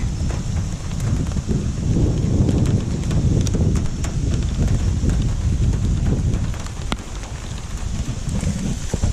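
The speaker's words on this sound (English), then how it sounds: "it's raining with like sleet, hail kind of thing." Steady rain with a rough, pattering texture, mixed with sharper ticks and taps like sleet or hail hitting surfaces, continuous throughout.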